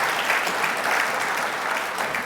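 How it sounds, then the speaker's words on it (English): Women in an energy conference audience clap together, a dense, even patter of applause holding steady at a moderate level throughout. "Only the girls are clapping at that, I noticed, by the way."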